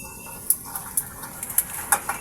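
Several short, sharp bird calls sound at irregular intervals in a home kitchen setting in the countryside, fairly close, over quiet background with no talking.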